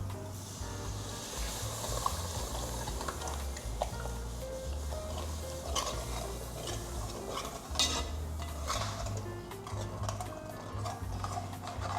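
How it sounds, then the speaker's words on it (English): A spoon scrapes and stirs the bottom of a pot of Cajun chicken pasta with tomato paste and cream, soft repeated scraping ticks over a steady low hum and gentle bubbling, close and quiet. "And I'm still gonna be scraping the bottom of the pot."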